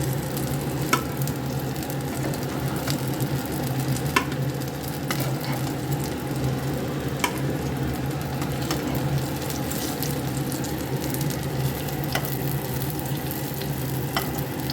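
Pieces of ash gourd fry in a pan with a continuous steady sizzle and crackle, occasional sharp pops and stirring clicks, close up, with no talking.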